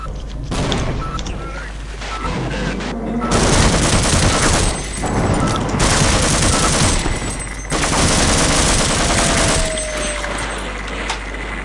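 Shotgun fire in the video game Half-Life: loud, dense game gunfire and booming blasts fill the whole stretch in sustained bursts with brief lulls, heavy and close.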